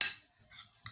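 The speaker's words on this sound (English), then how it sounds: "I'll be mixing them together." Ingredients for a home anti-snoring remedy being mixed, a brief clinking scrape of a utensil against a container, then fainter scraping and a final small clink, close and quiet.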